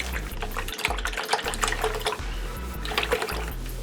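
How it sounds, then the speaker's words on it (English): Sixteen ounces of heavy whipping cream pours steadily into a pot, a continuous gurgling splash with some low background hum, no talking. "Also, I got some heavy whipping cream, 16 ounces of that. I'm going to pour it all in here."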